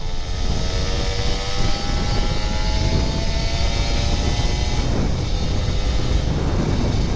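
A Kawasaki Ninja RR 150 motorcycle engine runs loud and close in a sustained roar, its pitch holding steady with slight rising and falling revs.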